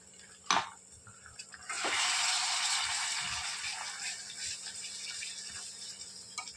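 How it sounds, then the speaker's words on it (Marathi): A clatter, then a steady rush of mixer-rinsing water poured into a pan of frying masala for paneer masala, continuing for several seconds with faint kitchen clinks in the background. "मिक्सर धुवून घेतलेलं पाणी टाकतो"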